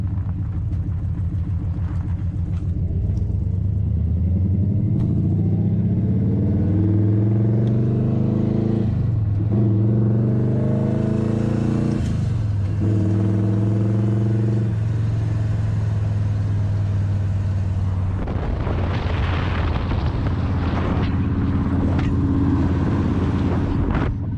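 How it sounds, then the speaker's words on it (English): An old AMC Javelin engine rumbles steadily while the car drives around the block, rising and falling in pitch as it accelerates and shifts through gears, loud and close throughout. "we're gonna go around the block in the old Javelin"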